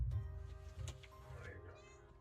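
A pet cat gives a short, soft meow close by indoors, with quiet human talk around it.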